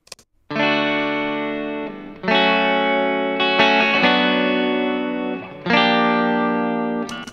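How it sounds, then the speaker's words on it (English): An electric guitar shaped with EQ, compression and reverb strums loud, sustained chords, four or five ringing strokes in succession, each held and fading slightly before the next, in a home-studio mix. "EQ compression and reverb."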